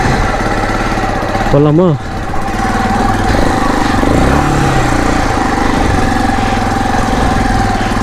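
A modified Bajaj Pulsar 220 motorcycle engine runs close by at a steady, throbbing idle, with a brief spoken question near the start.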